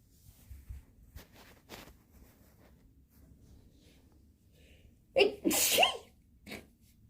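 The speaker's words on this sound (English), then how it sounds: "I feel like I'm going to sneeze again" A single sharp sneeze from a person at a breakfast table, loud and close, following quiet room noise with faint rustles and breaths.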